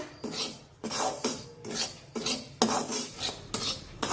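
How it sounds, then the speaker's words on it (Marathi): Semolina (rava) is roasted in a pan over a low flame, and a spatula scrapes and stirs it in regular close strokes about every half second. "गॅसची फ्लेम मंद ठेवून मंदाचेवर हा रवा छान हलकासा गुलाबी रंग येईपर्यंत भाजून घेऊया"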